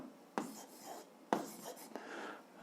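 Pen writing on paper while working an algebra exercise, close and quiet, with scratchy strokes and a few sharp taps as marks begin, in an otherwise hushed room.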